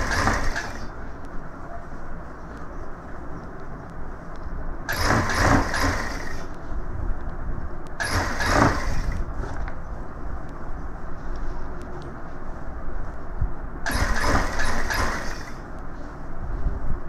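An electric sewing machine runs double stitching along a gents' suit, several loud bursts of machine whirring and rattling, each lasting about a second, separated by a steady low hum.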